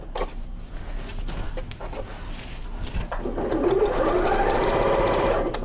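A sewing machine stitches patchwork borders with a continuous mechanical whir that is close and grows louder and busier in the second half, with no talking.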